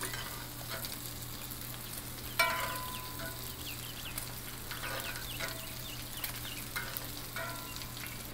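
Homemade potato chips and a bacon hot dog sizzle and crackle steadily in hot grease, with occasional stirring clinks and small pops, fairly quiet and with no talking.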